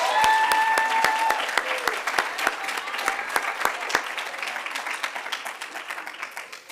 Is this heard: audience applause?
yes